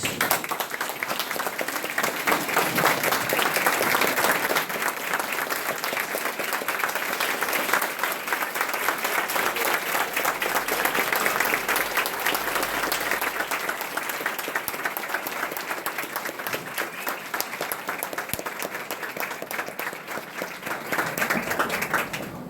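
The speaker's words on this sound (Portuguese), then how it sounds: "gostaria de pedir, então, à plateia que nos saúde com uma salva de palmas" Lecture audience at Unifeob university in São João da Boa Vista, Brazil, claps in long, steady applause, a dense, even roar of many hands lasting over twenty seconds with only slight swells and dips.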